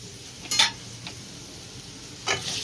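Chopped onion is stirred in hot oil for tempering, with two sharp bursts of spoon-scraping and sizzle over a quiet, steady background, close and without talk.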